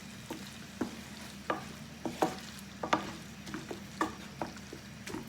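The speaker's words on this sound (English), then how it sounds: "give that another stir" Pork lettuce wrap mixture with hoisin sauce being stirred in a frying pan, a steady low sizzle under a series of short, distinct scraping clicks from the utensil at irregular intervals, close and moderately quiet.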